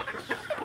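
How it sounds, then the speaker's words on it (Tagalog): Farm chickens clucking in a brief flurry at feeding time, several short overlapping clucks and squawks close by, fairly faint and with no talk. "nagkakagulo na naman yung mga manok"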